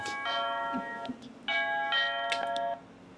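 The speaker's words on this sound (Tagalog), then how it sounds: "Uy, doorbell ng doorbell." An electronic doorbell chimes repeatedly indoors, two clear multi-tone ring sequences a moment apart with bright sustained tones, fairly close and alone with no talk.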